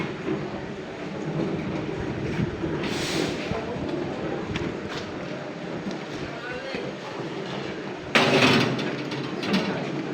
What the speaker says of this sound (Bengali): এটা হচ্ছে ব্লগ তৈরি করা মেশিন।